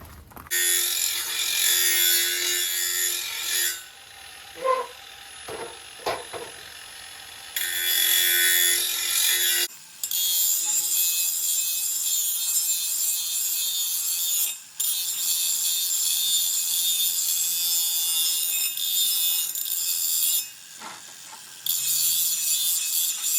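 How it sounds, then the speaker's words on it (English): An abrasive grinder takes down a weld on a metal security gate made of roughly quarter-inch-thick steel. Loud, harsh rasping bursts come in several passes, broken by short pauses and quieter handling noises, with no talk. "So I'm just going to grind it down here a little."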